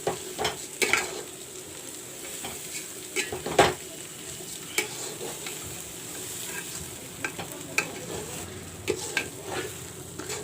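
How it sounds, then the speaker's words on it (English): Basmati rice fries in a pan for palau, giving a steady close sizzle with repeated scraping stirs and occasional sharp clinks of a utensil against the pan. "Fry the rice well, the basmati rice,"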